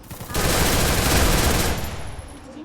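Automatic gunfire in the Free Fire video game fires in a loud, dense sustained burst lasting over a second, then cuts off, leaving game ambience.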